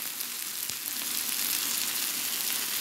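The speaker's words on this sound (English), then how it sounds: "Here, it's sizzling, okay? You can hear it." Salmon fillet with tomato and zucchini squash sizzling in a frying pan, a steady, even crackle and hiss held at close range throughout with no voices.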